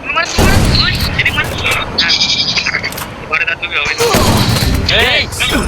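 Rapid gunfire bursts and heavy shots in an online shooting video game, loud and dense, with excited talking over the game sounds throughout.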